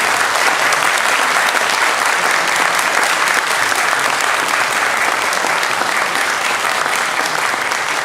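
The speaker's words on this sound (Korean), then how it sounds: "선물 전달할 때 큰 박수로 여러분 한번 일어나십니다" A church congregation gives sustained, loud applause during a gift presentation at a Sunday morning service, a thick, unbroken roar of many hands clapping from start to finish.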